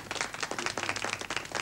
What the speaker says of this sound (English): Is all this bloody applause necessary?